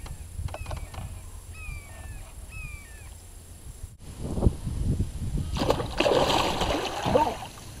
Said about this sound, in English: I'm getting rocked by his waves.